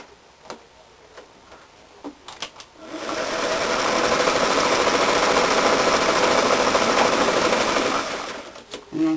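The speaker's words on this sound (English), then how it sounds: "we're going to baste that collar from the notch to the end of the collar. A long stitch." A sewing machine bastes a shirt collar with a long stitch, starting after a few clicks and knocks, then running in one loud, continuous whirring burst for about five seconds before stopping.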